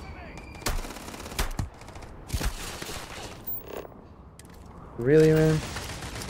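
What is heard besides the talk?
gunfire from enemies shooting in a video game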